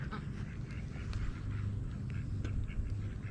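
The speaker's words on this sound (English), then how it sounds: "Those ducks, man, are so loud." Ducks quack loudly and repeatedly beside a bass fishing spot, with overlapping calls over a steady outdoor background.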